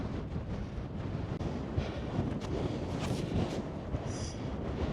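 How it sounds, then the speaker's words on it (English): Strong wind on a hill in the Brecon Beacons buffets the microphone in a steady roaring rush with gusty surges, loud and continuous throughout, no voices. "this is a windy day, to say the least"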